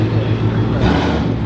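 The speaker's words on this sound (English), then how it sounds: "that's Chris in the background, loud ass car" A loud car rumbles steadily in the background outdoors at a car meet, its low engine drone continuous and fairly strong throughout, with a slight shift partway through.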